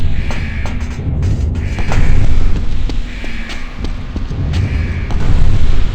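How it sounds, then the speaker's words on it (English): Explosions in the horror video game The Suffering: Ties That Bind, a dense, loud rumbling boom that swells and rolls for several seconds with repeated thuds under it, and no talk. "Was it an explosion?"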